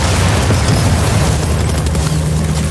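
A tank blowing up in Far Cry 6, a loud, sustained booming roar with deep rumble filling the whole stretch, no talking over it.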